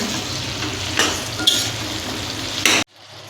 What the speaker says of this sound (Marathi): आता हे सर्व मिक्स करून घ्यायचं आहे